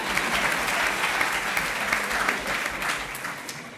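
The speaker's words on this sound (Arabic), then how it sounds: "صفقوا الحين مو بس شطرة." Audience applause at a concert at a university in Bahrain, a dense sustained wash of many hands clapping together, loud and continuous throughout.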